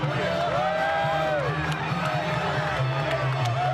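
A roaring boxing arena crowd at the De La Hoya vs Mayweather bout, sustained loud cheering and whistling shouts, with a commentator's voice faintly over the din.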